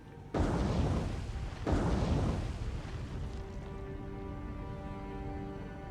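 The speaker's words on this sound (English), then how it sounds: "let's sit back and enjoy the torpedo strike" Torpedo strikes on a merchant convoy in the naval game War on the Sea: two heavy, loud explosions a little over a second apart, each leaving a broad roaring rumble that slowly fades.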